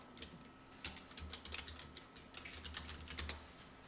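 A computer keyboard is typed on in a quick run of light, close clicks while a layer is named in design software, with a low hum underneath.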